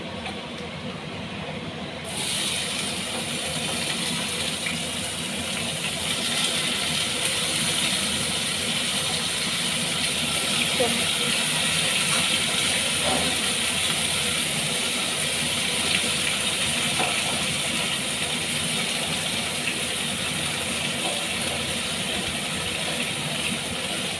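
Okra fries in a pan, a steady, dense hiss of hot oil that holds at an even level throughout with a faint low hum beneath.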